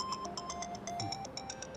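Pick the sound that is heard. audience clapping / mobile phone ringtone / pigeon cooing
mobile phone ringtone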